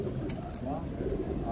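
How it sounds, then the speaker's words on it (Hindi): Pigeons owned by a Lahore pigeon keeper coo softly and continuously in a steady low murmur, with voices talking over them throughout. "असगर अली जाफरी साहब के कबूतर"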